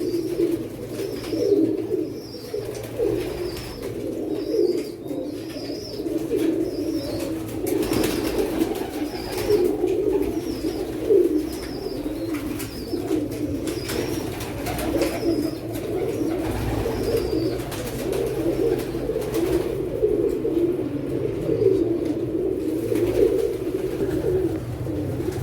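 A flock of pigeons kept as a hobby, with their chicks, coos steadily and densely, overlapping low calls filling the scene close by, with occasional faint higher chirps and no talking.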